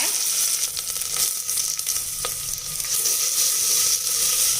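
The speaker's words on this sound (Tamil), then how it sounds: "இப்போது நறுக்கி வச்சுருக்க பெரிய வெங்காயம் சேர்த்துக்கலாங்க." Chopped large onions added to hot oil with a dried red chilli for a tomato kurma, sizzling and frying loudly and steadily with faint stirring scrapes throughout.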